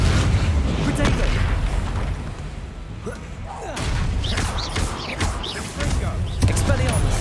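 Bombarda spell explosions in Hogwarts Legacy: repeated booming blasts and crackling impacts over a busy combat soundscape, with a voice shouting spell names throughout.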